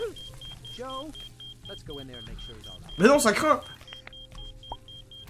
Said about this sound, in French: ça y est, ça a déclenché l'alarme